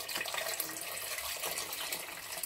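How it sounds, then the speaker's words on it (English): Water poured from a tap or jug into a pressure pot holding washed stockfish, a steady broadband splashing rush that stays loud and continuous throughout, close by, with no voices. "I will add water to the level of the stockfish."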